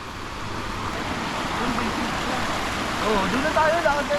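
A river flowing at a riverside car-camping site, a steady broadband water rush throughout with a faint bird or voice chirp near the end.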